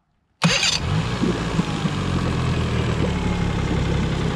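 A 40 hp Mercury outboard motor abruptly cranks and catches after a moment of silence, then settles into a steady, loud rumbling idle close by.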